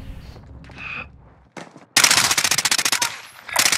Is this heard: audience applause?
no